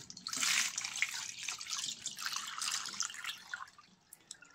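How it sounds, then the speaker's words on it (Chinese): Water running and splashing into a pot to prepare eggs for boiling, a close, bright pouring and trickling sound that wavers and tapers toward the end, with no voices. "第一步，加水"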